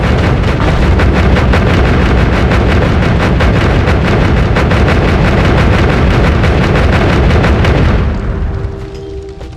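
A dense, continuous barrage of loud booming explosions and rapid gunfire-like bursts in the video game Noita, chaotic and roaring, thinning out abruptly near the end.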